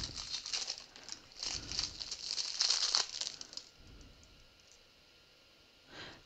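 Scissors cutting out paper shapes for resin shaker molds, a dense run of close crinkling snips and rustles for about four seconds, then quieter handling with a brief rustle near the end.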